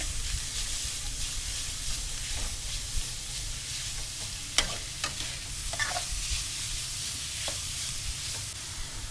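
Minced pork stir-frying with garlic and chili in a hot pan, continuous loud sizzle with occasional spatula scrapes and taps, close up.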